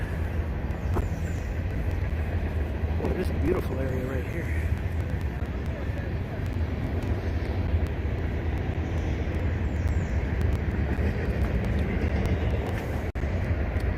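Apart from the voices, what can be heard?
passing train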